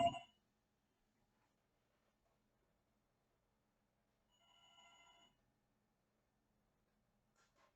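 A telephone bell rings during a philosophy lecture on Hegel's aesthetics, with a short burst at the start and a longer ringing stretch midway. Each ring is faint and distant in an otherwise quiet room.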